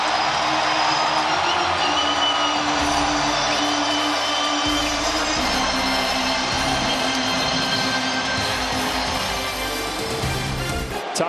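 A packed stadium crowd roars continuously at a Padres–Dodgers baseball game, a loud sustained wash of cheering with no break.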